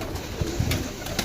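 Soft, low pigeon coos repeating in short bursts over a steady background hiss, fairly close and moderately quiet.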